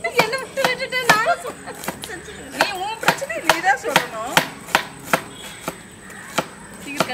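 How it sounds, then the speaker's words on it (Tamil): Rapid knife chops through onions and green chillies knock against a cutting board in an uneven rhythm, close and crisp, while a person talks over them. "சில்லி பரோட்டாக்கு வெங்காயம் பச்சை மிளகாய் கட் பண்ணிக்கலாம்"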